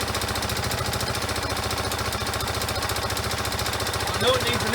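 A 1994 Yamaha Moto-4 ATV engine runs at a steady, rough idle with a rapid, even chugging pulse. The intake boot is badly worn. The engine is close and fairly loud, with a brief clink near the end.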